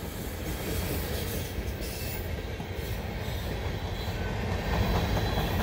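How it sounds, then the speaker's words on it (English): A mixed freight train hauled by a single locomotive rolls past on a main line at dusk, a steady loud rumble of wheels and cars with faint squeal and clatter throughout, no voices. "Looks like we got a mixed freight."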